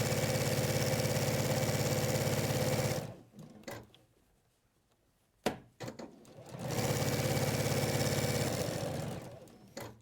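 A sewing machine runs fast in a steady, dense whir, stops for a few seconds with clicks and handling noises, then starts again at high speed.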